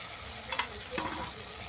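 Spice paste with tomato and chili frying in oil in a pan for a chicken broccoli curry, a soft steady sizzle with a couple of brief stirring scrapes, fairly faint and without speech.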